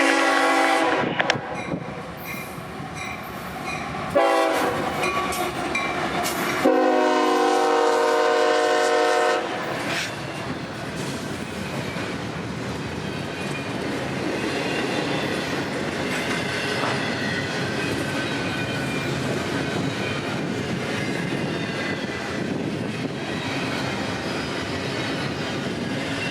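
Northbound freight train I-026 passes at Callahan, with a loud horn blast followed by a long, steady roar of wheels and rail clatter as the cars roll by close up and continuously.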